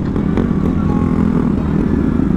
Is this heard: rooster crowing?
no